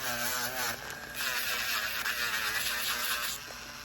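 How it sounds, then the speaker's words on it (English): An electric nail drill spins fast during a manicure, giving a loud, steady high-pitched buzzing whine with a slight rise in intensity partway through, close and alone without talk. "you can feel the drill is moving pretty fast"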